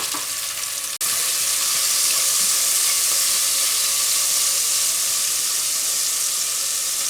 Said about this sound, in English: I will add the lardon first to saute until they then change the color and release a little bit fat.